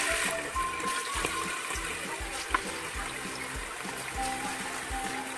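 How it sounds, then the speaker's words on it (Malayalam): Chicken pieces frying in hot oil for chilli chicken, a steady loud bubbling sizzle throughout, with a brief sharp clink partway through and no talk. "ഓയിൽ നന്നായി തിളച്ചതിന് ശേഷം ചിക്കൻ ഓരോന്നായിട്ട് ഇടുക"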